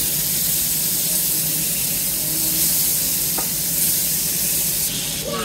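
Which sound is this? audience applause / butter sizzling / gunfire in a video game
butter sizzling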